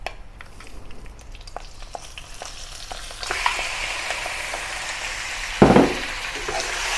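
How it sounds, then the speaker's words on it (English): Lamb frying in a pan after spices, a steady sizzle that rises in intensity partway through, with a few stirring scrapes and a sudden louder burst of spitting near the end. "Spread the lamb single layer and fry each side for a few minutes until the color changes."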